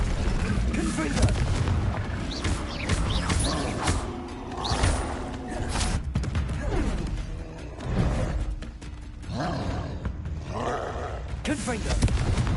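Confringo blasting spell explosions from the Hogwarts Legacy video game, a dense stretch of loud booms and rumbling blasts that roll over one another with hardly a pause, mixed with game effects.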